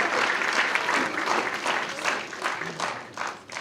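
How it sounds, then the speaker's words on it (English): An audience at a Writers Week event applauds an author, with loud, dense clapping that swells and then tapers off over a few seconds. "please clap it up for Christina Enriquez."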